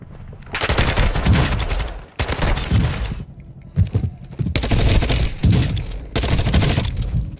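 Rapid bursts of automatic gunfire in Warzone on Ashika Island, loud and close, coming in several dense volleys separated by brief pauses, with heavy thuds mixed in.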